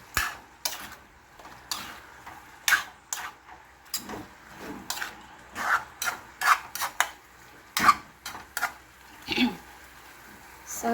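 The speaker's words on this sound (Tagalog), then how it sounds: "Halo ko po siya." Pininyahang manok, chicken in pineapple sauce, stirred in a pot with a utensil, giving intermittent scraping and rubbing strokes at an uneven rhythm, close and moderately quiet, with no talking.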